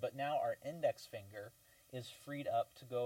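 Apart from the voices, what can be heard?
No everyday noise stands out behind the speech.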